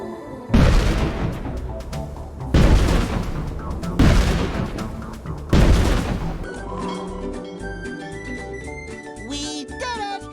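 Four heavy booming cannon blasts destroying a ship in the video game SpongeBob Squarepants: The Cosmic Shake, evenly spaced and loud, followed by bright game music with chiming tones.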